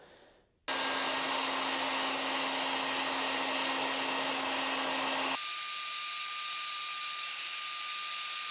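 A heat gun blows hot air onto a Kydex keel guard being fitted to a Native Watercraft Hammer 12.10 kayak, making a loud, steady whooshing whir that starts abruptly and shifts to a slightly different pitch partway through.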